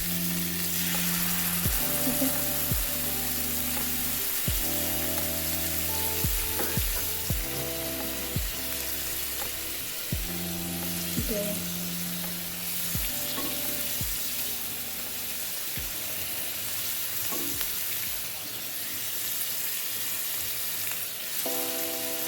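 Shish tawook chicken grilling over a low flame, giving a steady, close sizzle and hiss that runs unbroken throughout beneath soft tonal background music.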